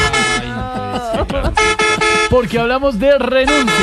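A bus horn blares repeatedly in loud, sustained honks that alternate with someone speaking Spanish.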